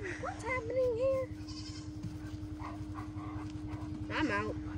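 Goats on a homestead let out a few wavering bleats near and mid-distance, mixed with a steady low hum and someone talking over them.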